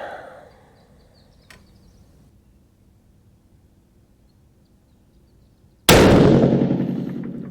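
Single loud rifle shot from a 6.5 PRC near the end, a sharp crack followed by a decaying echo after a quiet stretch with a faint metallic click earlier.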